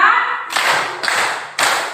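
Children in a classroom clap in a counted pattern, giving a few sharp, close group claps in rhythm with brief gaps between the bursts.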